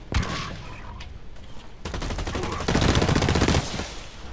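Rapid gunfire bursts in the online shooter Blacklight Retribution, with scattered shots early on, then dense sustained automatic fire building to a loud barrage before cutting off.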